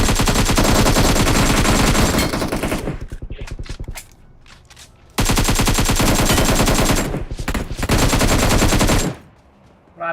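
Long bursts of rapid automatic gunfire spray in PUBG Mobile, very loud and dense, stopping briefly around the middle with a few scattered shots before a second sustained burst; no clear talk.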